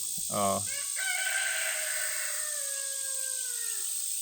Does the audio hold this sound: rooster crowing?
yes